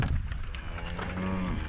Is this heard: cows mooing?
yes